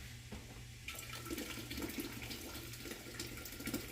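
Hot water from a tea kettle pours into a canning pot holding jars, a steady close splashing rush that starts after a short pause and runs on.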